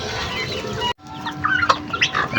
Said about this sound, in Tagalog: Ito po yung inahin ng mga nilahi ni Giant Rooster. May lahing Rhode Island Red.